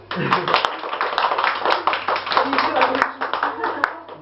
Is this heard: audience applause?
yes